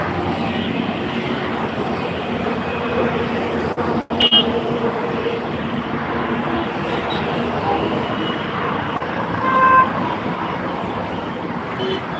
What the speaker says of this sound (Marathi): बाईकच्या बघा बाईक आणि कार कशा झुक झुक जाते एकदम झुक झुक जाते